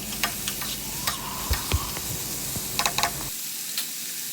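A steady sizzle of diced potatoes and peas frying in a pan, with scattered stirring clinks and scrapes over the hiss, close up, before the sound cuts off abruptly near the end.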